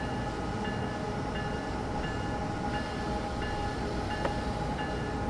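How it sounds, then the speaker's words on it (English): An Amtrak passenger train in Train Sim World 4 runs with brakes partly applied during stretch braking, giving a steady low rumble with faint periodic clicks and tones, no talk. "by having some brakes on and bailed off, you can actually stretch brake"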